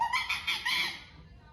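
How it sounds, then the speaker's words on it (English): A monkey call played back by an Amazon Alexa smart speaker: a short run of high, shrill chattering hoots in quick pulses, then a fade. "The monkey sounds like this."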